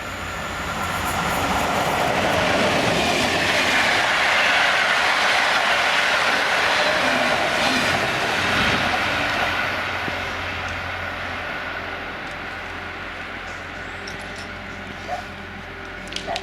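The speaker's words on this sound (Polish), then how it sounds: "Teraz mamy przelot IC Mehofer." An IC Mehofer intercity passenger train passes by on a Polish line, a loud rushing roar with rail clatter that swells over the first seconds, holds, then fades steadily as the train moves away.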